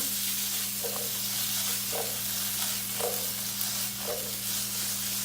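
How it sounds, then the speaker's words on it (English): Potatoes for home fries sauté in a large pan, a steady sizzle underneath with four evenly spaced stirring scrapes roughly a second apart. "So we'll let this simmer or saute for about probably 3 minutes, and then we'll do another toss"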